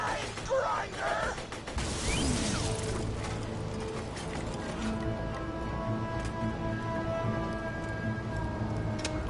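A grinder machine in the video game Borderlands 2 starts with a crunching crash, then settles into a loud, continuous mechanical whir with a steady droning hum.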